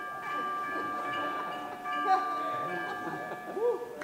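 A school concert band mimics a steam train starting to work up, with sustained wind chords, rising slides and ringing train bells, a busy layered texture that swells slightly near the middle and end.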